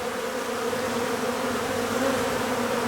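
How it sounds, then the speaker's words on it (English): A honeybee buzzes steadily and close by during a beehive inspection, a continuous droning hum with no talk. "I got a bee investigating me."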